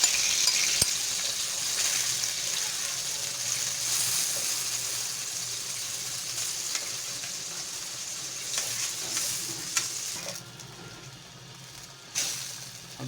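Marinated chicken for biryani sizzles steadily in a hot pan, a continuous bright hiss with occasional faint clinks of stirring, close and alone without talk.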